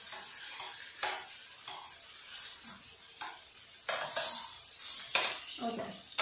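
Pork browning in a greased Dutch oven, a steady sizzle broken by several scraping stirs of a utensil against the pot, close and moderately loud.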